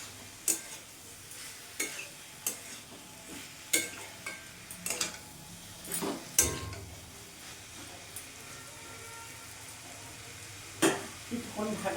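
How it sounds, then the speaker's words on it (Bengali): Potol and soybean being stir-fried with spices for a vegetable curry: a low steady sizzle under repeated scraping and clinking strokes of a spoon against the pan, close and moderately quiet. "এবার মশলার সাথেই আমি এটাকে ভালো করে কষাবো।"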